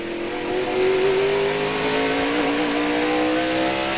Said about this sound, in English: From 73 to 114 miles per hour. In just a very short distance.